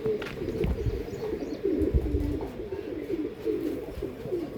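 A pigeon with dark purple-toned feet coos close by, a run of low, rolling throaty calls repeating steadily over faint background noise.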